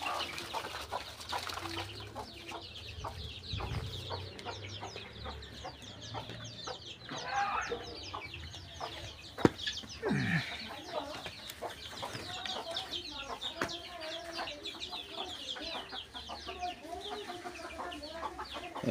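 Native hens cluck and chatter in a chicken house where chicks are kept, a busy stream of close, overlapping clucks with a brief flutter of wings partway through.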